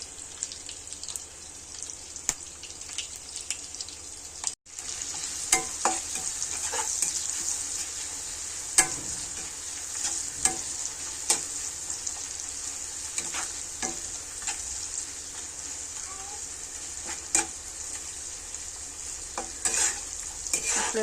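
Onions and garam masala frying in hot oil on a stove, a steady close sizzle with scattered spatters and stirring scrapes running throughout, no voices.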